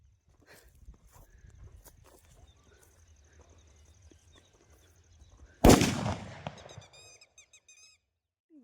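A single sharp firecracker bang bursts outdoors in a farm field, loud and close, followed by a couple of seconds of decaying crackle and rumble, with faint chirps trailing after.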